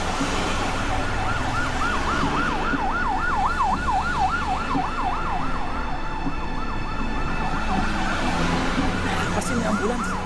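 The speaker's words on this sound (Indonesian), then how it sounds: "Pasti ini ambulans." An ambulance siren wails in rapid rising and falling sweeps, loud and close, over steady road traffic noise, fading somewhat toward the end.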